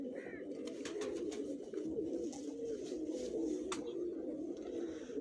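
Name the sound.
pigeons on a rooftop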